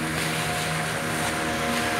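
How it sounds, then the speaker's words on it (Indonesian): A boat motor drones steadily at moderate distance on the Kapuas River in Pontianak, a continuous hum with no talk over it. "Oh, ini ada perahu."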